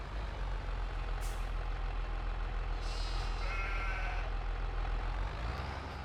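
A few sheep bleats in Farming Simulator 22 sound faintly in the middle of the clip, over a steady low engine-like drone and a couple of brief high chirps.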